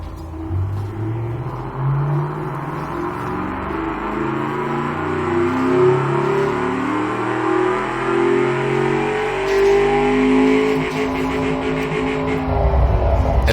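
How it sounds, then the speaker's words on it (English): Aluminum DOHC V8 in a 1970s car in a car-building tycoon game, revving through rising and falling sweeps, loud and close with a throaty rumble, no talking. "It still has that nice V8 sound to it."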